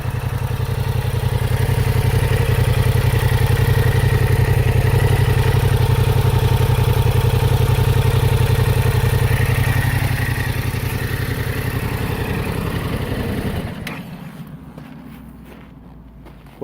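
A Yamaha CP2 parallel-twin engine on a Yamaha Tracer 700 motorcycle idles loudly and steadily with a low, even rumble, then cuts off near the end, leaving quiet ticking.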